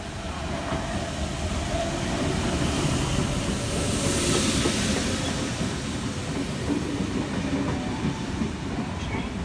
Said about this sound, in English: Central Sydney Terminal service arriving into platform number 2.